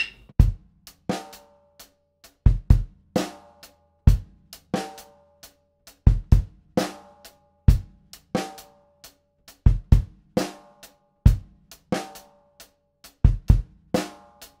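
A drum kit plays a steady groove with hi-hat eighth notes, punchy bass drum hits and sharp snare strikes, including an offbeat snare, repeating in an even rhythm with no talking.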